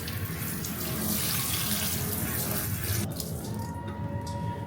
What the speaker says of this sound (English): so let's rinse it